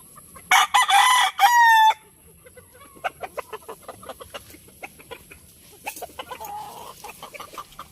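Loud, nearby rooster crowing in two bursts, followed by scattered clucks and faint chicken chatter over quiet background noise.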